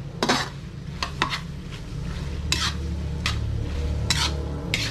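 A spoon scrapes and clinks against a pan while papaitan is stirred, a few sharp metallic taps over a steady low simmering hum.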